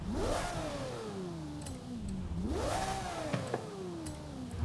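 A drift car's engine in a racing video game revs hard twice, each time climbing quickly to a high pitch and then sliding slowly back down, loud and close with no talk.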